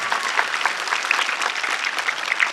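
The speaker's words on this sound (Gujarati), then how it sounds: "જોરદાર તાળીઓ થઈ જાય એમના માટે." Sustained applause from an audience at a school's first-day welcome ceremony, honouring a teacher being introduced; dense, steady clapping from many hands fills the whole moment without speech.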